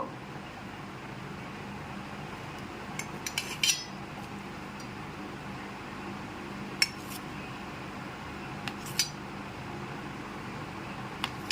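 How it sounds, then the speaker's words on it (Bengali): A knife cuts a block of paneer into pieces, giving a few faint, sharp taps and clicks on a board in small clusters, spread over a quiet, hissing kitchen background. "এখানে পনিরটাকে প্রথমে কেটে নিচ্ছি পনিরগুলো এরকম টুকরো করে নিয়েছি"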